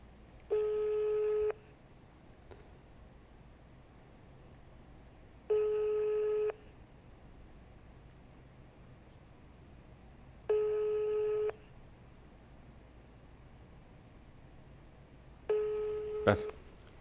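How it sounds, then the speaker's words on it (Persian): Telephone ringing tone heard on a phone call: four evenly spaced electronic tone bursts, each about a second long, separated by several seconds of quiet line hiss, moderately loud and alone, with a brief click at the last. "تلفن داره زنگ میزنه"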